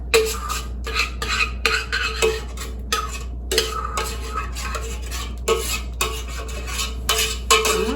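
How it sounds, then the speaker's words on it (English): A utensil stirs sauce into casserole noodles in a pot, giving close, rhythmic scraping and clinking strokes over a steady low hum, with no talking. "So the first thing you want to do is put your sauce into the noodles."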